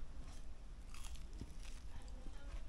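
Biting and chewing a thick, crunchy, brown Fijian village pancake, a quiet close-up series of crisp crunches and chewing sounds.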